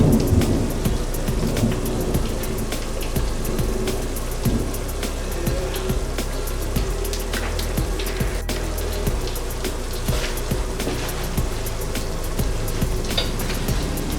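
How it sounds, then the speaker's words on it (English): Ingredients for efo riro, a Nigerian spinach stew, frying steadily in a pan, a loud, dense, continuous crackle and hiss with scattered sharper pops throughout, no voices. "I'm just going to leave this to fry"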